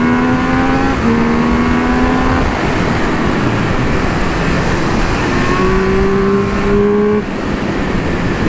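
A Triumph Speed Triple 1200 RR motorcycle engine revs loudly and close, its rising and falling tones climbing quickly through the revs in a steady, continuous roar.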